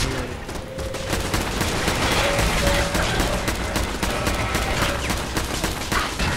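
Sustained rapid gunfire from Fallout 4's Automatron, a dense fusillade of overlapping shots with machine-gun bursts that stays loud and continuous throughout, with no talk over it.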